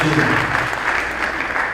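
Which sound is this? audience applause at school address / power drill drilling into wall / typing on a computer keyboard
audience applause at school address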